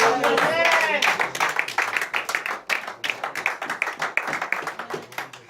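Church congregation at a prayer vigil clapping in quick bursts while voices shout and acclaim, the claps close and sharp, sometimes rhythmic, mixed with lively vocal cheering.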